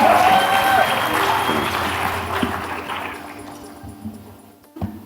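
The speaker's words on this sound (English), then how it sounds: "Give him a round of applause, ladies and gentlemen." Audience at a closing ceremony applauding a speaker walking onto the stage, the clapping loud at first and tapering off over several seconds, with a voice briefly audible early on.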